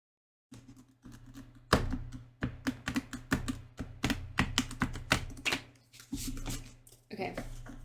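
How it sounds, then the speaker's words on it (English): A deck of tarot cards is shuffled by hand, a series of quick riffling bursts and soft slaps repeating in an uneven rhythm, close and clear, with a steady low hum underneath. "I'm going to try to shuffle these pretty good"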